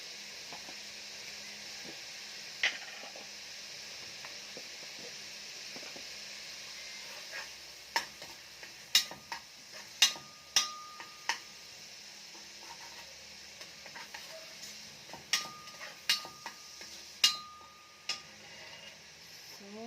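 Ground meat with chicken cubes fries in a pan with a steady low sizzle, joined by scattered sharp ticks and scrapes of stirring that grow more frequent toward the end.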